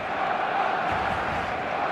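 Stadium crowd roaring in the eFootball 2026 video game before kickoff, a dense, steady wash of cheering and chanting that stays loud throughout the brief stretch.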